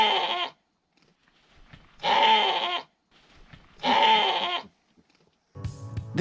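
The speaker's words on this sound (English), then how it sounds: "These chatty little sheep can be found right off of Highway R559 on the Dingle Peninsula" Sheep near the prehistoric Beehive Huts off Highway R559 on the Dingle Peninsula give three loud, drawn-out bleats about two seconds apart, close by, followed by a shorter bleat.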